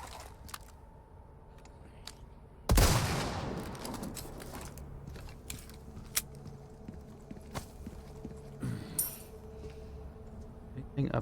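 Gunfire in Resident Evil 4 Remake: one sharp, loud nearby blast with a ringing decay, followed by scattered quieter pops, clinks and footsteps against low game ambience, with a voice speaking.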